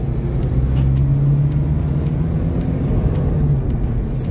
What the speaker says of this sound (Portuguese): A gente vai dirigindo por aqui.